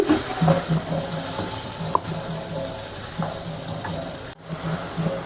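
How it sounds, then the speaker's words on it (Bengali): Water from rinsing the mixture bowl hits a pan of frying butter paneer masala, giving a steady close sizzle with stirring scrapes and a few sharp clinks, no talk. "ভাজা হয়ে গেছে মিক্সচার ধোয়ার বাটির জল দিয়ে দিচ্ছি"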